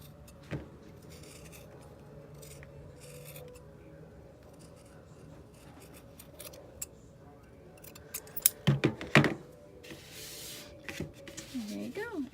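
Scissors snip through the ends of a handmade yarn tassel in a few quick, close cuts over a low, steady background.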